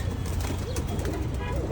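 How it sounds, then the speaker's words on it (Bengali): Pigeons on a farm give soft, repeated cooing calls nearby while people talk over them. "না এখানে কবুতর বসে।"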